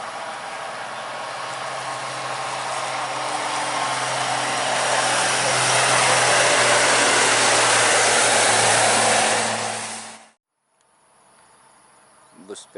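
A PMM Siantar Kerinci bus speeds along the Permai toll road, its roar of engine and tires swelling into a loud, broad rush that peaks close by, then cuts off abruptly into near quiet.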